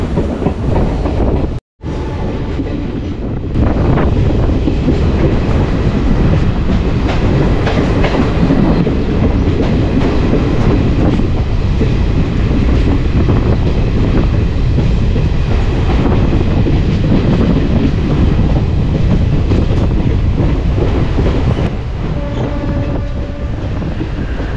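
A passenger train runs steadily on the rails, its continuous loud rumble and wheel clatter filling the whole stretch after a brief cut near the start, slowing slightly toward the end as it pulls into a station stop.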